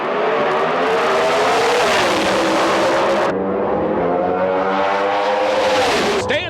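A Pontiac GTO Pro Stock drag car owned by Bart Price and driven by Greg Stanfield howls down the Las Vegas strip at over 200 mph, a loud continuous engine wail rising through gear changes, with a second roaring car alongside.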